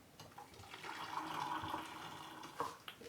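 Liquid poured down a tub drain with a stuck linkage, during a baking soda and vinegar fix: a steady, close splashing gurgle lasting a few seconds, with a brief louder slosh near the end and no talking.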